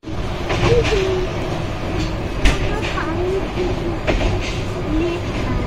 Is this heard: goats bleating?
no